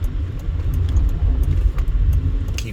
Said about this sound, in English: I got some traffic, cross traffic here.